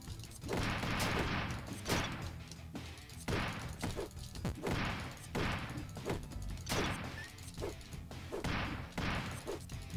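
Repeated bomb blasts in the 2D roguelite Dungreed, a steady series of punchy booms and crashes landing roughly every second, moderately loud with no talking.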